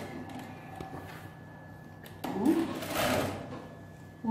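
A sewing machine stitches elastic onto a woman's blouse, running in short bursts that grow louder midway, with faint handling noises between runs and a brief restart at the end.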